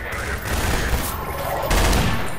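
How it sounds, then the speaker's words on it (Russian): Rapid gunfire from a Garry's Mod horror map round, sounding as a dense burst of shots that swells again near the end, with players talking over it. "Слышь, ты что стреляешь по мне?"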